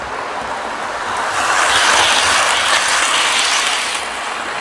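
A model railway train runs forward along layout track, giving a steady whirring, rattling rumble that swells as it draws nearer and then eases off again, with no talking.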